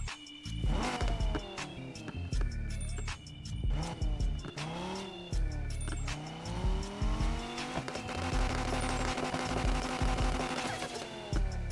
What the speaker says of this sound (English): So let's cut on the car and see what it sounds like, man.